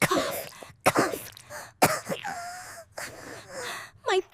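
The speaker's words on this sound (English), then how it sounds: "Cough, cough, cough." A voice performs a string of dry, harsh coughs and throat clearing for a little penguin with a sore throat, several sharp bursts spaced among gasps and short vocal sounds, close and clear.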